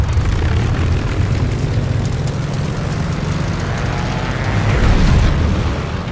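A video game propeller plane's engine roars at full power on takeoff, a loud, steady, close drone that swells slightly toward the end.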